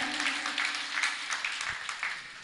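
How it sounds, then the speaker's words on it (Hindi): An audience at a Jain religious discourse claps for honoured guests, a sustained round of many hands with uneven rhythmic swells, heard from a moderate distance with no talking. "एक बार इनके लिए भी जोरदार तालियां बजाएं।"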